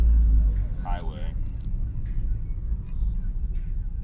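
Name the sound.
1987 Honda Prelude Si engine cruising in fourth gear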